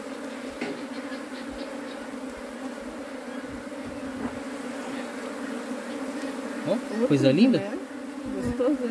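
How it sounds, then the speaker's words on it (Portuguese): A swarm of honey bees hums steadily at a hive box full of honey and pollen, a close buzzing drone that swells louder near the end, while someone speaks briefly in Portuguese. "As abelhas foi muito lá pra dentro da caixa, hein?"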